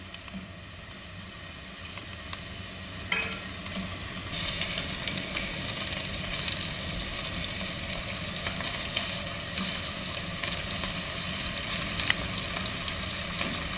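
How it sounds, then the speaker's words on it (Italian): Scampi sizzle steadily in a hot pan for linguine agli scampi, a continuous close frying hiss with faint stirring noises and no voices. "Appena vedete comincia a sfrigolare, possiamo aggiungere gli scampi"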